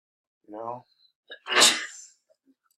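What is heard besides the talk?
sneeze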